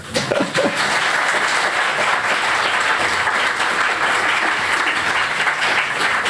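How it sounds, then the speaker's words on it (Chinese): A concert audience at a rhythm and percussion performance breaks into applause, a dense, loud, sustained wash of clapping that begins abruptly and holds steady to the end. "掌声鼓励给好吗？"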